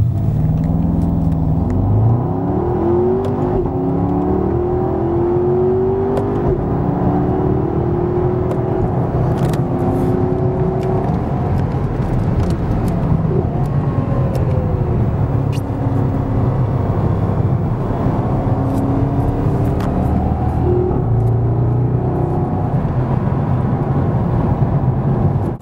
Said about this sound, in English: When you hit this magic button for sport exhaust, this is the sound you can expect.